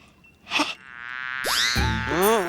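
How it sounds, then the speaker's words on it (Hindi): A housefly buzzes in a short burst, then sweeping, warbling whines rise and bend over a steady background tone, loud and close. "आ गई ये मक्खी, मुझे फिर से परेशान करने चला।"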